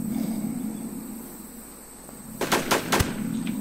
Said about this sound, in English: Is he shooting at me?